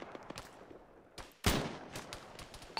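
Gunfire from the video game Arma 3 cracks in short bursts: a few faint distant shots early, then a loud, sharp shot with an echoing tail and more scattered reports, with no voices over it.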